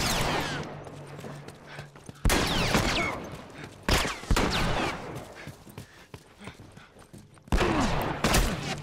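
Gunfire in The Last of Us Remastered comes in rapid, sharp bursts of shots. Three loud volleys stand out over a busy, rumbling combat background. No one speaks.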